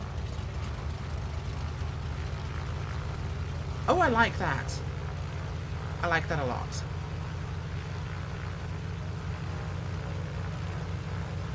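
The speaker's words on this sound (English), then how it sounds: "That engine sound is very juicy." Grumman Goose twin radial engines running steadily in Microsoft Flight Simulator 2020, a constant low drone throughout with someone talking briefly over it.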